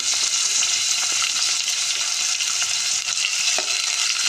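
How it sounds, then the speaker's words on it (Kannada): Onions fry on a high flame while being stirred for khuska kurma, a loud, steady, close sizzle that fills the clip, with occasional scraping of the stirring spoon. "ಬ್ರೌನ್ ಕಲರ್ ಬರೋವರೆಗೂ ಚೆನ್ನಾಗಿ ಬೇಯಿಸ್ಕೊಳ್ಳೋಣ"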